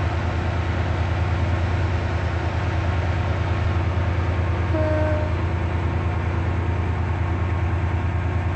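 Class 68 locomotive hauling a three-coach train in the SCR Roblox train game, a steady, loud, continuous engine and running drone with low rumble throughout, a brief faint tone near the middle.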